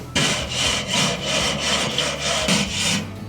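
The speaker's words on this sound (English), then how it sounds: "let's give those grill grates a scrape" Charcoal grill grates scraped clean on an Onlyfire rotisserie ring setup, a loud close rasping scrape repeated in about seven even back-and-forth strokes.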